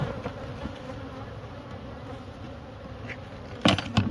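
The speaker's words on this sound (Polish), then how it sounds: "Sporo pszczół." Bees buzz continuously in a low droning swarm, with a few louder close passes near the end; no voices.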